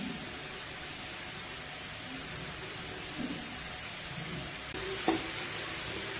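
Carrot and cabbage poriyal with grated coconut being stirred in a pan, a steady soft sizzle with faint scraping throughout and a brief louder clink near the end.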